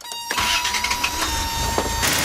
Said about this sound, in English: Start up the engine